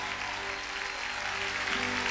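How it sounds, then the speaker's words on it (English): A church congregation claps their hands together in a dense, sustained wash of applause that fills the room evenly, with a faint musical tone beneath. "Come on, somebody, give God a big hand clap"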